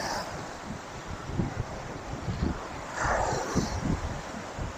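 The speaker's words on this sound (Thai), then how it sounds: "แต่ลม แรงมากฮะ" Strong wind buffets the microphone on Bangsaen beach in Thailand, a steady low rumble with gusts swelling around the middle, with faint surf beneath and no talking.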